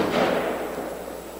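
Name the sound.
gunshot in the neighborhood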